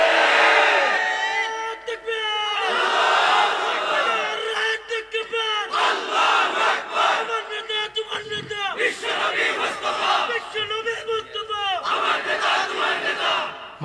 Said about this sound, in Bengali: তার স্লোগান হবে আমার নেতা তোমার নেতা বিশ্বনবী মুস্তাফা